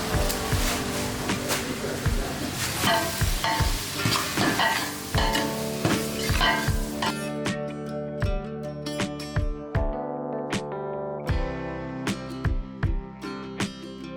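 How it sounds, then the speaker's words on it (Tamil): Chili powder and salt sautéing in a pan for a fish curry, with repeated sharp scrapes and knocks of a spoon against the metal over a steady low sizzle, close and fairly loud, and a sparser stretch in the second half. "தனி மிளகா பொடியை போட்டு வதக்கணும் சார்"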